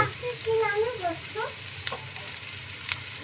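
Grated coconut frying in a pan with turmeric powder for a water lily stem recipe, giving a steady, close crackling sizzle with light stirring throughout.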